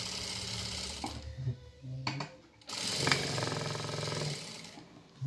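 A sewing machine stitches main and lining fabric together in a few short bursts, its fast mechanical whir starting and stopping with brief pauses between runs, close and fairly loud.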